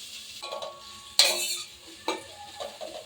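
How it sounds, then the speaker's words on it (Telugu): Chopped onions dropped into hot oil with cumin seeds in a pan, giving sudden sizzling bursts, followed by a spoon stirring and scraping against the pan's metal. "కర్రీ పెట్టుకున్న ఆనియన్స్ వేసుకోవాలి."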